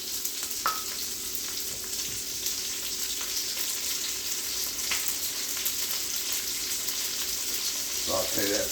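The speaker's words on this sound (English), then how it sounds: "Saute my onions. Onions with garlic, maybe 2 to 3 minutes." Onions and garlic sauté in a hot pan, a steady close sizzle and crackle with occasional clinks of a utensil stirring, and a brief bit of talk near the end.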